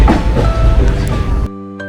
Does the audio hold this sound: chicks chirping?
no